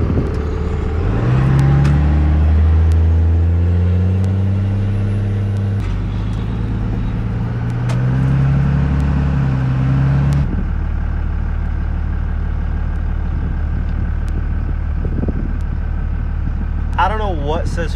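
A 5.9 Cummins diesel farm truck runs with a loud, low droning engine note that shifts pitch as it revs and settles, then drops to a rougher idle with some background clatter.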